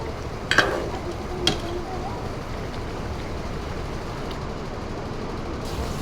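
Chicken kosha frying in a pan is stirred with a soft, continuous sizzle, and a couple of sharp utensil clinks against the pan sound early on.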